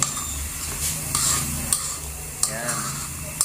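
Pork Bicol Express with chili simmers in coconut milk in a pan over medium heat while a spoon stirs it, with scraping and soft sizzling and a few sharp clinks against the pan.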